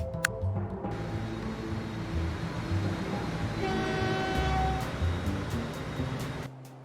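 Train running in Transport Fever 2 on console, a steady loud rumble of rolling rail cars with horn-like tones sounding midway and near the start, continuous for most of the stretch before cutting off at the end.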